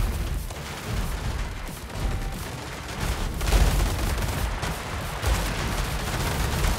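Scourge weapons in the War Robots Frontiers video game fire at short range, producing a continuous, loud barrage of blasts and booms with several heavier surges throughout.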